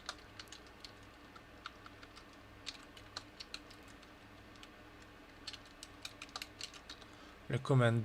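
Keys tapped on a computer keyboard while a project name is entered during a machine learning classroom lesson, a quiet, irregular run of light clicks at moderate distance, ending in a short louder burst of noise.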